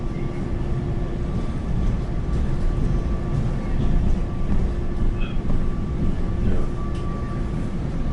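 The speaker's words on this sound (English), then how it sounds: "we can briefly see another NJT passenger train" An NJ Transit passenger train runs past, giving a steady close rumble of wheels and rail with a faint tonal hum, continuous and fairly loud throughout with no talking.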